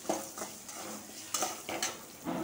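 Large pieces of ginger fry with coriander seeds in a pan, giving a quiet crackling sizzle stirred by a spoon, with soft scraping knocks every half second or so.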